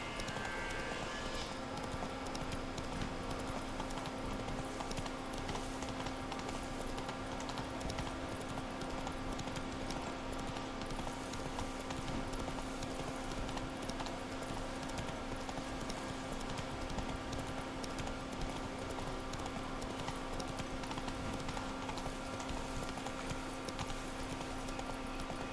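Horse hooves clop in a steady running rhythm in The Witcher 3: Wild Hunt, a continuous mid-level gallop under game ambience and music throughout.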